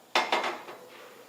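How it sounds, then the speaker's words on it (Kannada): A metal pot is set down for cooking rava chakli, giving a close, ringing clatter with two or three quick knocks that fade into a short metallic decay. "ಈಗ ಮೊದಲೇದಾಗಿ ಒಂದು ಪಾತ್ರೆ ಇಟ್ಕೋತೀನಿ ರೀ."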